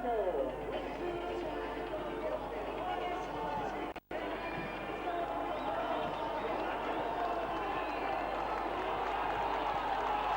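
A packed crowd of about 7,800 at Cougar Park for a 1997 Keighley v St Helens rugby cup tie: a steady distant roar with bursts of cheering, under close commentary talk throughout.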